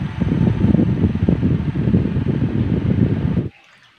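A repaired 12-volt battery-powered electric fan runs with a steady, close whirring hum for about three and a half seconds, then cuts off abruptly into near silence.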